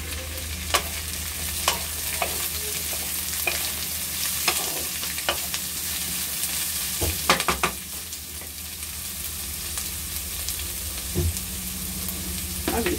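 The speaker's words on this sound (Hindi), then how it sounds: "तो फ्रेंड्स, ये प्याज भून रहा है।" Onion and thinly sliced potato frying in a pan, a steady close sizzle with repeated scraping and stirring strokes of a spoon, no voices.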